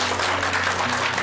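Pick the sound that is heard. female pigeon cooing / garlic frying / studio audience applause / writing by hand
studio audience applause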